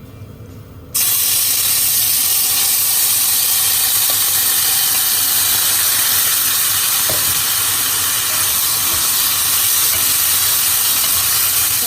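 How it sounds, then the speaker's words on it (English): Kidney dropped into a preheated pan, bursting into a loud, continuous hissing sizzle that holds steady close up, with a couple of faint clicks. "So we had our pan preheated before, guys, so we're now gonna add our kidney."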